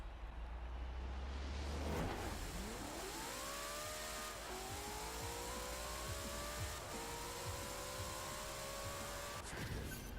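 A 1900HP Mustang launches in a Forza Horizon 4 drag race, its engine roaring and climbing in pitch through several gear changes, loud and continuous with no talk over it.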